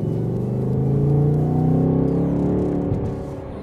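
A V8 car engine in its loudest sound mode rumbles deep and steady close by, swelling slightly in the middle and easing off toward the end, with no talk over it.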